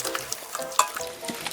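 Whole, uncut ponytail radishes are tossed in a seasoning of chili flakes and broth, giving soft, moist squelching and rustling at close range, steady with small irregular bursts.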